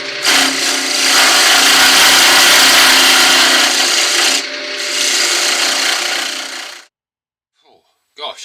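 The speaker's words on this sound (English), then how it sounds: "You can hear the wood shaking." A wood-turning lathe shapes a turned wooden Christmas snowman ornament with a loud, close, continuous high tool-on-wood scraping and rattling roar lasting about seven seconds, with a brief dip midway, then it stops abruptly.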